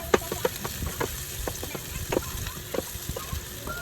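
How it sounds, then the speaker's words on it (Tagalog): Onions sautéing in hot cooking oil, with a steady close-up sizzle and frequent short scraping stirs and clinks through the whole stretch, no voices. "Gisahin ang sibuyas."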